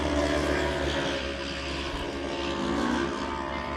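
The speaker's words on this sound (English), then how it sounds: "you can hear that car heavy on the RPMs, but the RPMs do not match the speed of him going forward" A race car engine revs hard at high RPM, a steady loud drone with a broken rear bumper or loose sway bar mount, heard continuously and close throughout with no talk.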